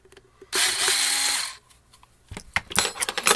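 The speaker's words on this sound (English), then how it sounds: "Those are the two screws we remove." A small power driver whirs for about a second, backing a screw out of a JBL Charge 3 portable speaker. Scattered close clicks and handling taps of the screws and plastic case follow.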